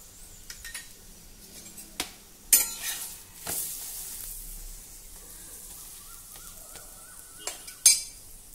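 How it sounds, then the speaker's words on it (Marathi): A buttered paratha roasting on a pan, giving a quiet steady sizzle with a few sharp clinks and scrapes of a spatula or utensil against the pan, no voices. "दोन्ही बाजूनी व्यवस्थित बटर लावून छान खरपूस हा पराठा भाजून घ्या।"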